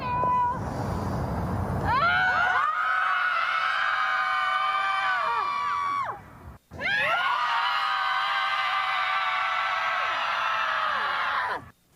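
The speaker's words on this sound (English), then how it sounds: "Recently, they took to a field to release their anger by screaming." Screams from a group of women gathered outdoors in a Boston field to vent anger; loud, sustained piercing cries in two long bursts separated by a brief pause, rising from a low rumble of noise.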